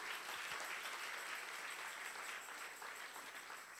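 Church congregation applauding during a sermon, a steady dense wash of clapping that holds throughout at moderate level with no break.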